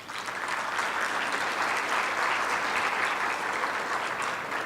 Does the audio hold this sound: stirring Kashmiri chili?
no